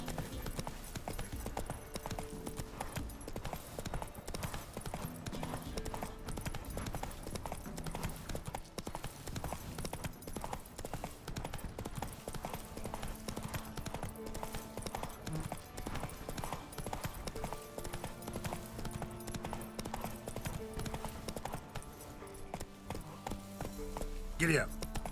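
Horse hooves clip-clop in a video game, a steady rhythmic trot running throughout, fairly near, with background music and game sounds layered over it and brief talk at points.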